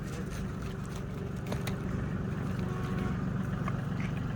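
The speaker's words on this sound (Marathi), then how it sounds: "हा ट्रॅक्टर आहे जॉन डिअरचा" A John Deere tractor engine drones steadily and loudly at close range, a continuous low rumble with no talk over it.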